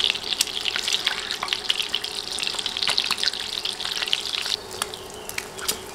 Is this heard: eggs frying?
yes